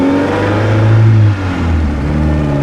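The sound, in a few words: 1956 Austin-Healey 100-4 engine revving while driving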